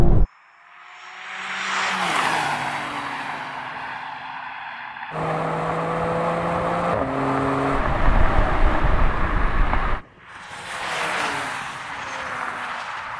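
Performance cars in a touring drag race, BMW M3, Alpina B3, M340i and M340d, roar hard under acceleration with rising engine notes and gear shifts, a loud sustained drone that cuts off abruptly and restarts.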